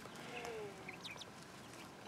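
Chickens cluck and chirp softly at a distance over a low, steady background hiss.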